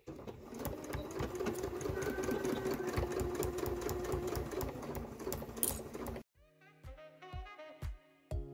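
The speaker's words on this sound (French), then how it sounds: "On est parti, on va coudre tout le long." Sewing machine stitching along the side of fabric, a fast steady mechanical whirring and ticking that runs for about six seconds, then stops and gives way to sparse tapping sounds.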